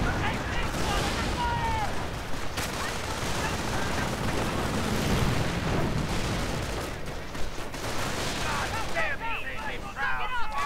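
Strafing runs rake across a WWII strategy game battlefield, a dense, continuous clatter of gunfire and blasts with a commentator talking over the din.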